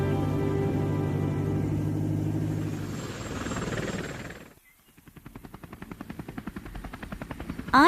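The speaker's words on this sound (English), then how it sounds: "My helicopter." A helicopter sound effect in a children's song, a steady tonal rotor drone that fades out, then returns as a rapid rhythmic chopping pulse building toward the end.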